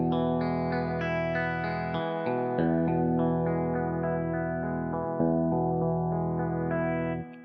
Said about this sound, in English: I will play the same notes while I move the tone pot.